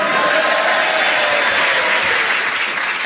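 Theatre audience at the Kenton Theatre in Henley-on-Thames applauding, a dense, loud, unbroken wash of clapping that fills the room and holds steady throughout.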